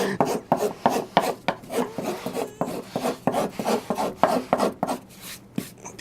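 Hand filing a burr off the edge of an MDF router base, a rhythmic series of dry rasping strokes, close and fairly loud, with brief pauses between passes and no talking.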